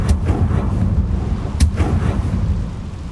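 A Confringo blasting spell goes off in Hogwarts Legacy with a heavy, booming blast and a rumbling tail, loud and close, with a second sharp burst partway through.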